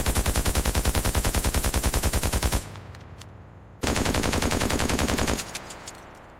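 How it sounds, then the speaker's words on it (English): An M2 Browning heavy machine gun fires two long, loud bursts of rapid, evenly spaced shots, separated by about a second of ringing echo, and the second burst trails off into reverberation. "No other machine gun in history has served this long, this widely, or this effectively."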